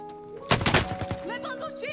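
A rapid burst of Warzone video game gunfire, several quick cracking shots in a cluster from a tower, followed by electronic tones and game effects over a steady background hum.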